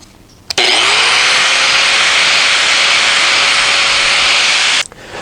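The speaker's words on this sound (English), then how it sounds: "the tops of these posts to be exactly parallel with this, so you don't have any high places. And I do that with" An angle grinder trims the tops of wooden deck handrail posts for a ramp, a loud, steady high-pitched whine that starts abruptly, holds for about four seconds close by, then cuts off and winds down.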